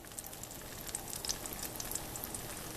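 Veggie omelet eggs frying in a pan, with a steady, soft sizzle and fine crackling pops throughout, close and even.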